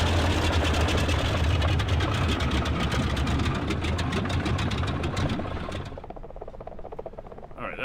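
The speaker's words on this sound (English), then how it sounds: "So, using the mixture to shut down the engines." Twin piston engines of a Boeing 247D in a flight simulator game, a dense rough drone that winds down and thins out near the end as the engine is cut off by the mixture, leaving a fainter low rumble.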